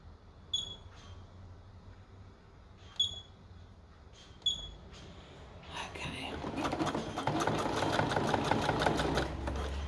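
A sewing machine stitches elastic onto a pair of shorts, the elastic held stretched as it feeds. A few soft knocks and faint chirps come first, then a loud, steady, rapid stitching run fills the last four seconds.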